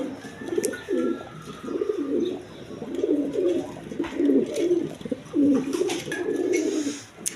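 A pair of blue Lahori pigeons coo nearby in repeated rhythmic bursts, each call rising and falling, with brief pauses and some faint background clatter.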